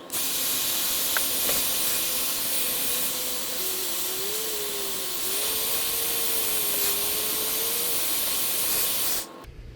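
A heat gun blows hot air onto a Subaru WRX badge during removal, a loud, steady roaring hiss with a faint wavering whine that lasts about nine seconds and then cuts off.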